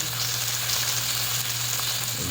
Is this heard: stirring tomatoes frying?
yes